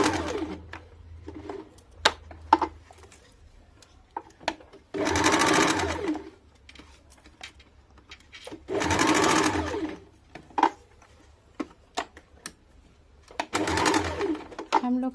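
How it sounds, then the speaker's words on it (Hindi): A sewing machine stitches the side seam of a loose plazo in three loud, steady bursts, with quieter gaps and a voice speaking between them. "अब साइड में जो 4 इंच वाला खुला छोड़ दिए थे उसको भी सिलाई कर लेंगे।"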